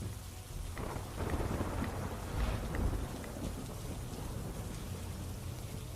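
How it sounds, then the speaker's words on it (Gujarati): Heavy monsoon downpour in Sihor, Bhavnagar, with strong wind after a spell of intense heat: a dense, steady roar of rain drumming close by, with low rumbling swells and no voices. "અસહ્ય ગરમી અને ઉકળાટ બાદ વરસાદ પડ્યો"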